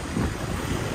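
Strong wind buffets loudly and steadily in BGC, Philippines, roaring across the microphone with no voices.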